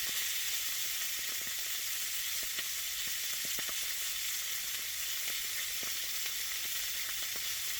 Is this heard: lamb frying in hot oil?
yes